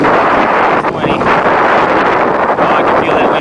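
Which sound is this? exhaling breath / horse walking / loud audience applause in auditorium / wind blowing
wind blowing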